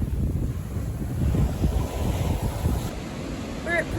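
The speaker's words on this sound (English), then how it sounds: "this is the Indian Ocean" Indian Ocean surf rolls onto a beach in Western Australia, a steady close wash of breaking waves mixed with heavy wind buffeting the microphone, with a faint high whistle near the end.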